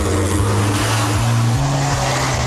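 An aircraft propeller engine on a test run, its spinning prop shredding a plane fuselage, gives a loud, steady droning roar with low engine tones that shift in pitch, continuous for the whole stretch with no voices.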